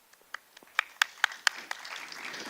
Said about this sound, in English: A loud round of applause for Mr.